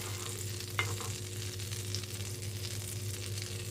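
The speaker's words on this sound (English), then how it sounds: "So I'm just going to grease the pan with some butter." Butter greasing a frying pan gives a soft, steady sizzle at low level, with a single faint clink near the start and no talking.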